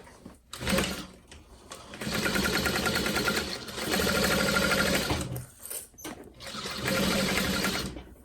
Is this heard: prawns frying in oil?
no